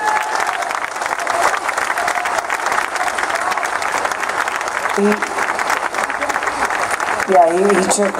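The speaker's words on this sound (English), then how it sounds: "What about a round of applause for Kiko Martinez?" Audience at a civic reception for a boxing world champion gives a sustained round of applause for boxer Kiko Martinez, steady dense clapping with a few cheers, and a voice speaks briefly over it near the end.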